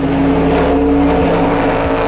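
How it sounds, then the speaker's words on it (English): Toyota Supra GT300 race car with a small-displacement V8 screaming at high revs, a loud, steady, close-up engine roar with brief dips as it shifts gears. "hearing a screaming, high-revving, small displacement V8 race car engine in a Toyota Supra"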